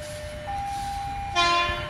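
A KRL commuter electric train passes at a station, a steady mechanical rumble with a sustained horn-like tone that brightens and swells toward the end, heard from a short distance with no talking.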